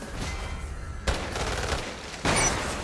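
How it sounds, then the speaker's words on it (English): Shotgun blasts at point-blank range in the video game Umbrella Corps: two sharp, loud reports about a second apart, each cutting through a steady wash of battle noise. "Shotgun point blank."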